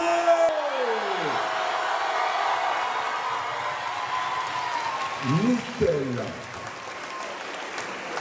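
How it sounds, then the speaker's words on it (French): Audience applause at a cosplay contest event, a dense, sustained wash of clapping from a large crowd, with a voice calling out briefly partway through. "Un tonnerre d'applaudissements, s'il vous plaît!"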